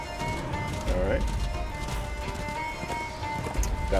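Horse hooves clip-clopping at a gallop in the video game Darksiders II, a steady rhythmic beat under game music and effects, with a brief whinny and someone talking over it.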